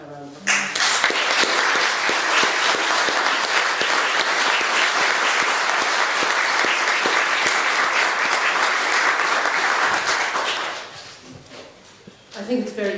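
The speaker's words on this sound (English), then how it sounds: "And I think they all deserve a round of applause." Loud, sustained applause from an audience honoring LGBT council colleagues at a Dublin City Council policy launch, running steadily for about ten seconds before fading out, with a brief clatter at the end.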